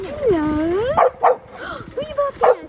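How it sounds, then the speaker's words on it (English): A dog's whining, yodel-like vocalization sliding up and down, followed by a few short sharp barks nearby. "Who are you barking at?"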